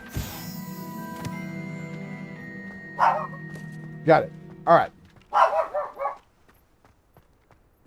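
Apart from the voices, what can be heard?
dog barking in the room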